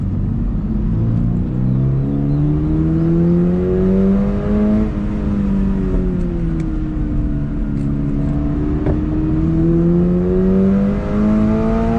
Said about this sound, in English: Lively engine.